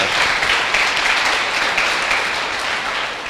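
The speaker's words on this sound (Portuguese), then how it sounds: "Vou dar uma salva de palmas para o Senhor dele" A Portuguese-speaking church congregation claps in praise to the Lord, a steady, dense round of applause lasting a few seconds and easing slightly at the end.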